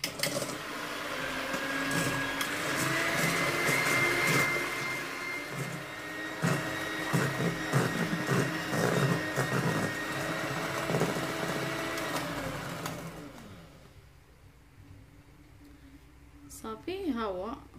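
Electric mixer whipping a batter with a pinch of salt into meringue, a steady loud motor whir with rhythmic beater clatter that cuts off near the end, while someone talks over it.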